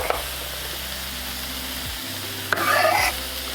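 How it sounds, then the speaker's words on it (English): Steady sizzling of vegetables in a hot pot, with a short scraping stir partway through; no voices. "3 of the main ingredients out of 5 are already nicely sizzling"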